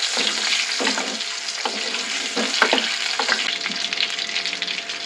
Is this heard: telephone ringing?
no